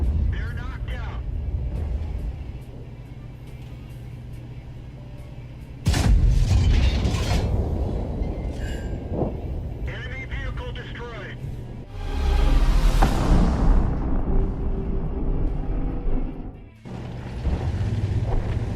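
In a tank video game, an FV4005 fires its gun with a loud booming blast, followed by mechanical clanks, impact crashes and rumbling battle noise, with a voice talking over parts of it.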